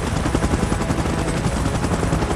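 A helicopter's rotor chops steadily and loudly close by, a dense rapid thudding with a broad roar, staged as a chopper moving into position during an evacuation in a cinematic Godzilla and Kong versus MechaGodzilla short film.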